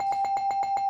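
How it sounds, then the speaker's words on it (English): A ringing bell struck in quick even repetitions, about eight sharp metallic hits with a sustained bright tone between them, loud and close, with no talk. "Fuck it. I'm giving it the bell."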